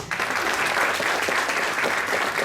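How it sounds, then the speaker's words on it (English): A crowd at an awards ceremony claps loudly and continuously, a thick even wash of applause from many people in the room with no break. "Round of applause."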